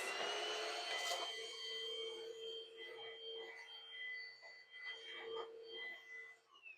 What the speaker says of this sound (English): This vacuum, let me show you guys.